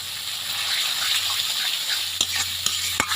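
Spices with turmeric, chili powder, salt and ground tomato and onion frying in a pan, a constant hissing sizzle with a few sharp scrapes and taps of a spatula near the end.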